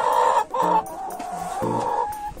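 A chicken clucks and murmurs close by in a few short bursts with brief pauses, a drawn-out call in the middle.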